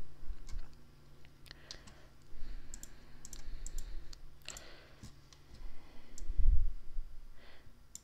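A computer mouse clicks while sprites are being edited in Flash: a handful of sharp, isolated clicks at irregular intervals, close up, with a soft breath between them.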